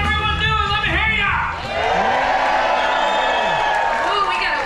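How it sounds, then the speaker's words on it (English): A rowdy late-night crowd cheers and whoops aboard a cruise ship during a motorcycle rally event, loud and continuous, with voices shouting and hollering over a steady roar of noise. "we got a way rowdy crowd than earlier"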